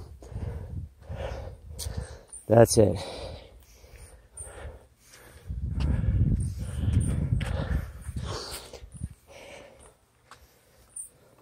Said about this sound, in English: Hear how you're breathing with intention.